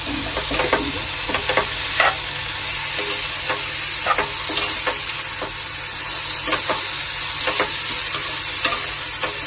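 About 50 grams of soaked cashews cooking in a pan for mutter paneer, with a constant loud sizzle of frying and repeated scraping stirs of a spoon against the pan.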